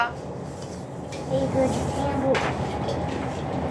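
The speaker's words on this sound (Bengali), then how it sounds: "দেখছি তো ট্রেন আসছে" A train rumbles in the distance, growing slightly louder partway through, while people talk nearby.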